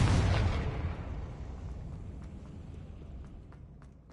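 Confringo fire spell explosion in the video game Hogwarts Legacy, one loud booming blast at the start that rumbles and fades away over several seconds, followed by faint scattered crackles.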